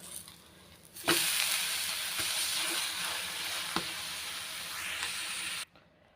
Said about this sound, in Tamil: அது மேலே கொஞ்சமாக அப்படியே எண்ணெய் விட்டுக்கிடலாம் ஒரு சைடு வந்து நல்லா வெந்துருச்சு இப்போ பரட்டி விட்டுக்கலாம்